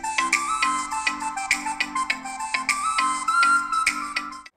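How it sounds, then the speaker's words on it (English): A short melodic ringtone-like tune plays through the CORK 2, a Bluetooth speaker shaped like a bottle cork, with bright repeated notes in a steady rhythm, clear and close, no talking. "This is the sound of the CORK 2 speaker."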